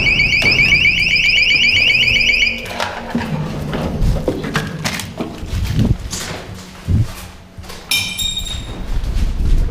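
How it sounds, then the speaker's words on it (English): A loud electronic alarm pulses rapidly in a ghost town in the video game Wasteland Operations, then cuts off. Scattered clanks and thuds follow, and a short burst of high beeping returns near the end. "Ich glaube, der Alarm geht los."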